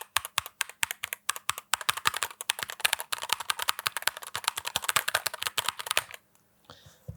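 Old mechanical switches on a split keyboard being typed on: rapid, continuous close-up clacking that runs for about six seconds, then stops abruptly, leaving a few faint taps.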